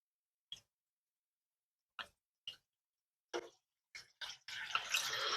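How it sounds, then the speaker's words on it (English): Water is poured into the radiator of an old car that sat unused for decades. A few separate splashes come first, then they turn into a continuous, louder pouring rush. "Let's get some water in it."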